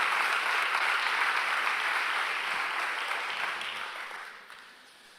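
A church congregation claps during a Saturday worship service, a broad, steady wash of applause that fills the room and then gradually thins and fades toward the end.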